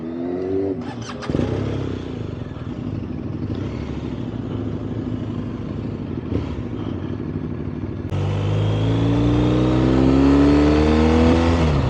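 Motorcycles ride past at a MotoAmerica race event in Austin, Texas, engines droning loudly with a clattering pass early on, then a louder bike accelerates nearby with rising, climbing engine tones toward the end.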